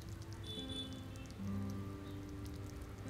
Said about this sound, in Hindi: सभी खड़े मसालों को हम आधे सेकंड के लिए भून लेंगे।